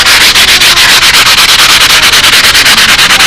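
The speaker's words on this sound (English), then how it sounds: "I always sand these parts nice and smooth inside." Sandpaper rubs steadily back and forth over the inside of carved model-aircraft nacelle fairing parts, a loud, close, rhythmic scratching of even strokes with no talking.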